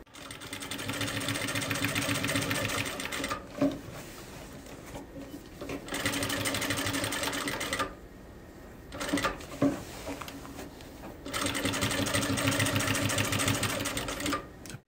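A sewing machine stitching fabric for a Bible cover runs in steady whirring bursts of a few seconds each, stopping and restarting with small clicks between runs, close and with no voices.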